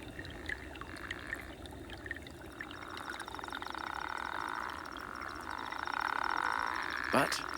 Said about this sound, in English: This is the soulful love song of the male Arabian toad.